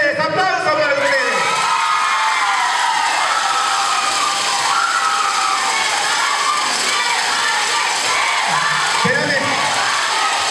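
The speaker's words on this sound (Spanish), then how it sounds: "¡Aplauso para ustedes!" A loud carnival crowd at a beauty-queen candidates' event in Cazones cheers, shouts and whoops continuously, close and dense, with a voice talking over the din.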